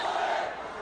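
Spectators roar from the stands at a schoolboy water polo match between Royal and Thomian, a brief burst of massed crowd cheering heard at a distance.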